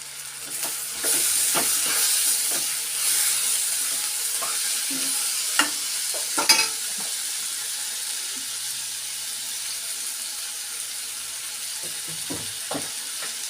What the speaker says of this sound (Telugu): ఇప్పుడైతే మామిడికాయ ముక్కలు వేసుకుంటున్నాను